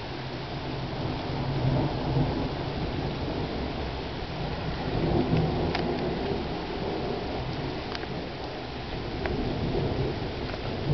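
Thunder rolls through a lightning storm as a steady, loud, broad rumble under rain, with no sharp cracks standing out and no talking.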